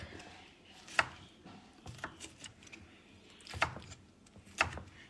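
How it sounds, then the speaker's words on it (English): A knife chops fresh vegetables for pico de gallo on a board with a handful of sharp, irregular knocks spread over a few seconds. The chopping is quiet and close, with a faint background hum. "Chop it up."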